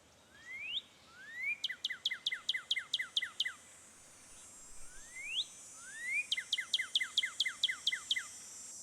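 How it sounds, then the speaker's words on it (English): Northern cardinal calls from a Nancy Drew game: two bouts of clear, loud whistled song, each opening with rising slurred notes followed by a rapid series of repeated descending chirps, with a short pause between bouts. "Northern cardinal."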